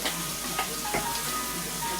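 Food frying in a pan with parsley, a steady close crackling sizzle with small pops, continuous and fairly loud with no talking.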